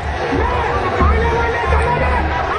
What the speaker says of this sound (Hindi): रास्ते में प्रदर्शनकारियों की भीड़ हंगामा कर रही थी